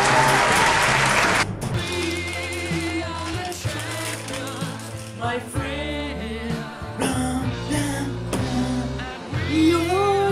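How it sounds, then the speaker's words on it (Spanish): Classroom students give a loud burst of applause for the smartest pupil; the clapping lasts only a second or so before a sung, guitar-backed music track takes over. "quiero que le den un fuerte aplauso"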